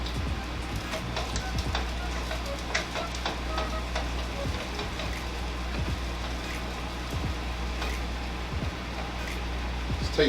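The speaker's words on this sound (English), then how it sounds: "I'm going to turn this pan on back here with this oil for these bananas" Bananas frying in hot oil in a pan give off a steady, close crackling sizzle with scattered pops and spits running evenly throughout, no voices.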